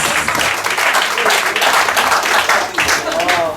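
A church congregation claps loudly during a worship service, a thick, continuous burst of hand-clapping mixed with raised voices and shouts from the crowd.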